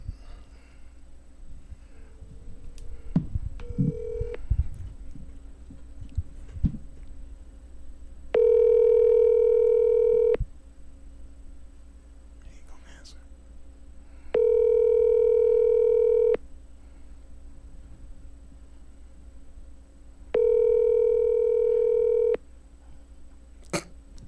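A phone places a call: brief dialing clicks, then three evenly spaced long ringback tones about two seconds each, separated by quiet gaps, with faint room noise between.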